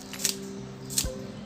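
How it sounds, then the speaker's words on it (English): Kitchen scissors snip through green onions twice, each cut a crisp, close snap about three-quarters of a second apart, over a quiet room hum. "So I'm just going to cut the shallots."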